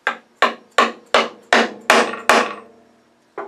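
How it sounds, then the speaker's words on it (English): A wooden screwdriver handle is tapped into place with seven sharp knocks at a steady rhythm, each ringing briefly before the next, then a short pause and one more knock, close and loud with no talking. "Actually, I'm going to turn it upside down and tap it."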